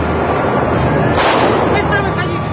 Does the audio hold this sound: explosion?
yes